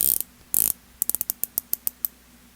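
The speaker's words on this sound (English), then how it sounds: "it's a 120 click zirconia ceramic bezel insert" A 120-click zirconia ceramic watch bezel insert on a Wise Hitman HIT66 being turned, producing a close, crisp run of about a dozen sharp ratcheting clicks in quick, slightly uneven rhythm after two brief scraping bursts.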